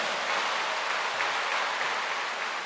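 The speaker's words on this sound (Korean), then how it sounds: "박수를 돌리시겠습니다." Church congregation at Yoido Full Gospel Church in Korea breaking into loud, dense applause, a continuous roar of many hands filling the hall.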